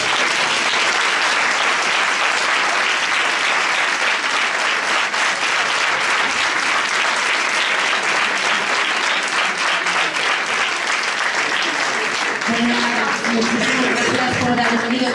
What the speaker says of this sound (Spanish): dar un aplauso muy grande a nuestros ponentes